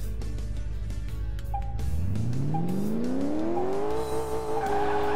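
Engine of a 1939 Delahaye driven in the Car Mechanic Simulator 2018 game, rising steadily in pitch as it accelerates over several seconds, loud and continuous with a squealing edge.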